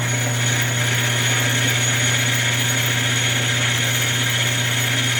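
Hardinge HLV lathe taking an interrupted cut on bulk stock for fuel cell rings, a loud continuous machining drone with a steady low hum and a gritty cutting texture throughout.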